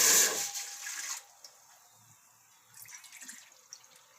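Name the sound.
pouring water into wheat flour for papad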